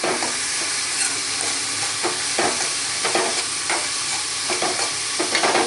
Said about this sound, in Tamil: நல்லா வதக்குங்க. ஒரு 5 to 8 minutes. நல்லா வெங்காயம் நல்லா குக் ஆகணும்.